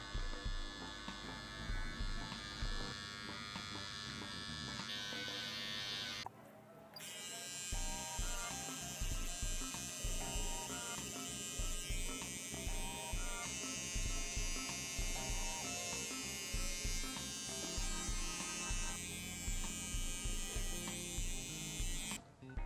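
Electric hair clippers cutting a lineup along the front hairline during a self haircut, buzzing loudly and steadily up close, with one short pause before running on continuously.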